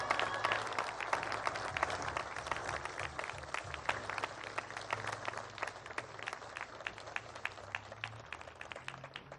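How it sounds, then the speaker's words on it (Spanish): A crowd claps steadily at a hospital tower inauguration in Rioverde, a dense, fairly distant patter of many hands that fades slightly toward the end. "Un gran aplauso."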